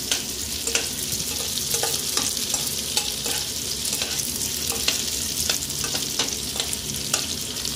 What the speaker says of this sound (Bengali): ফ্লেমটাকে একদম লোতে রেখে হালকা করে ভেজে নিতে হবে। দেখো চালগুলো আস্তে আস্তে ফুলে যাচ্ছে